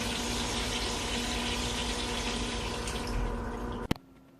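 A public toilet flushes with a steady rush of running water for several seconds, ending in a sharp clunk and sudden quiet.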